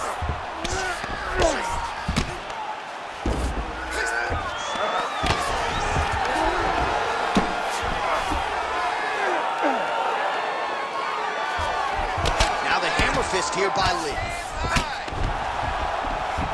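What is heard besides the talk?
crowd cheering in the video game UFC 5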